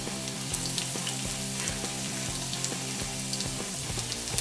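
Garlic sizzles in hot oil in a wok, a steady, crackling fry with a busy hiss running continuously throughout, close and moderately loud, with no one speaking.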